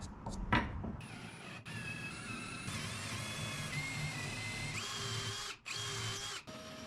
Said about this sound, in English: I will make a marker on how deep I should drill this.